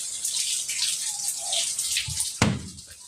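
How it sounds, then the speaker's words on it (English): Water leaking and running inside a thrift store, a steady broadband hiss of flowing, splashing water that continues throughout, with a brief louder splash or knock near the end. "where is all this water coming from? That's a lot of water."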